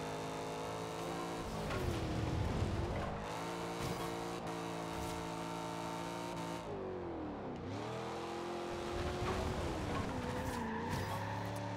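An American car in Forza Horizon 2 races hard, its engine revving up and down in loud, rising and falling tones while the tyres skid and squeal through corners, with no voices.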